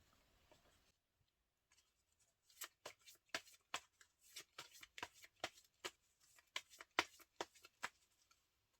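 A deck of tarot cards is shuffled close up, a rapid run of crisp riffling snaps in quick succession after a quiet start, soft and intimate with no talk.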